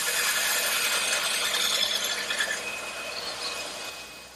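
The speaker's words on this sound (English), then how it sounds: "the first thing I want to do is relieve these edges by using my bandsaw" A bandsaw rounding the edges of wooden cleat stock, with a continuous bright, raspy cutting hiss that fades toward the end, close and alone.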